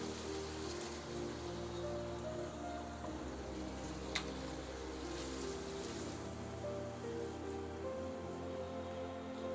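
Beef keema for a dhaba-style keema piaz simmers in a pan after half a glass of water goes in, giving a steady, even bubbling hiss throughout with one sharp click midway.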